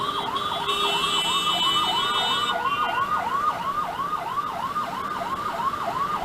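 An emergency vehicle siren wails along a Delhi road in a rapid, repeating yelp pattern, loud and steady with traffic noise beneath and a brief higher horn-like tone early on.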